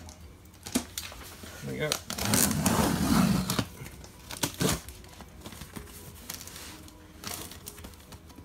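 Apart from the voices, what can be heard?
cardboard box opened with scissors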